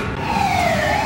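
Ambulance siren wailing in a single smooth falling sweep, loud and close, steady over a low background rumble, with no speech.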